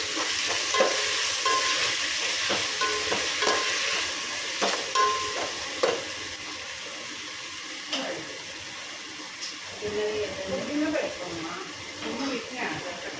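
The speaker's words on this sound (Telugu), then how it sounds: "అంతా కలుపుకోవాలి" Food for chicken basmati bagara being stirred and mixed in a hot pan, with a constant sizzle and repeated scraping strokes of a spoon, close up, over a quiet background of indistinct speech.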